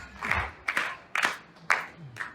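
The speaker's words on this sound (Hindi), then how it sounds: "हाथ ऊपर करके टाइगर टीम वाली तालियां चाहिए मेरे को" An audience at a business seminar claps in several quick bursts, the crisp claps close and irregular, rising and fading in short waves.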